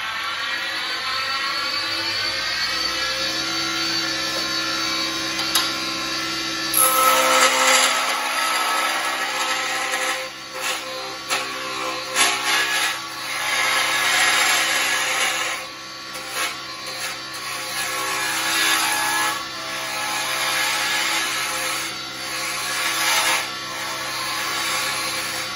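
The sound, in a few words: lathe turning a driftwood razor handle at 3,000 RPM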